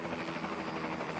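Helicopter landing in a remote river canyon on the wild Alsek River, kicking up dust and grit; a steady, loud broadband rotor and engine roar fills the moment with no talk.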